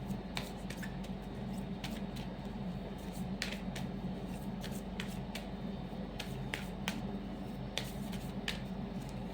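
Tarot cards being shuffled and drawn from a deck, a steady run of soft close flicks and snaps with sharper ticks scattered throughout, no talking.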